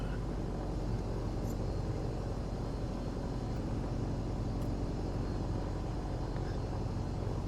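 An aircraft engine taxiing toward the runway in the video game Microsoft Flight Simulator 2020 drones with a continuous, even hum and broadband rumble that stays constant throughout at a moderate level.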